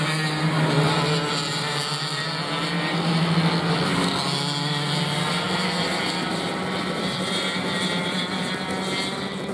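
Junior racing karts on a formation lap hum together in a continuous, droning engine chorus that stays fairly loud and steady throughout.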